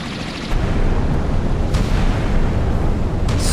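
Naval gun fire from a warship in the Sea Power naval combat game, heavy booming blasts at intervals over a continuous loud rumbling roar.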